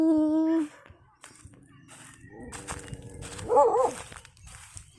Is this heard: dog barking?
yes